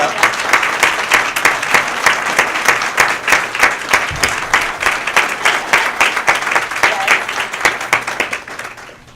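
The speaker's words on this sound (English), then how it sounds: "Please stand so we can give you a round of applause." A gala crowd applauds the event chairs at the Windsor Shad Derby, loud sustained clapping with a rhythmic pulsing quality as people clap in rough unison, tapering off toward the end.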